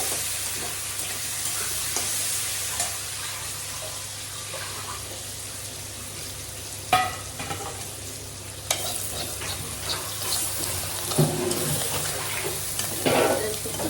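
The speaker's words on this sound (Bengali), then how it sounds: "আলুটা একটু ভেজে নেব" Cut potatoes fry in oil with cumin and bay leaf in a kadai, a steady close sizzle with occasional scraping stirs and clinks of a spatula against the pan.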